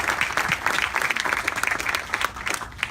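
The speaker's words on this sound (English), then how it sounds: "So let's please give them applause" An outdoor audience at a university counseling center groundbreaking claps steadily, with dense overlapping handclaps from a mid-sized crowd close by, continuing for several seconds.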